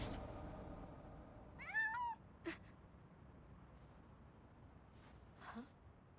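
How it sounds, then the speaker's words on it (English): A cat meows once with a rising, wavering cry, followed by a couple of short, faint sounds against a quiet, noisy background in an animated scene. "It's a cat."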